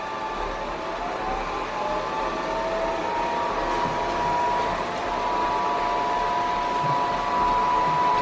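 A DEIK robot vacuum cleaner runs in spot cleaning mode, giving off a continuous whirring motor hum with a broad airy rush, steady and close throughout.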